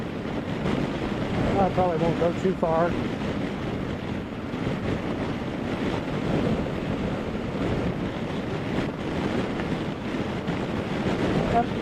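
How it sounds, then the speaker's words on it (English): Breezy outdoor wind buffeting a helmet microphone, a constant loud rumbling roar that runs the whole clip, with a voice speaking briefly over it. "I'd say it's kind of breezy out here."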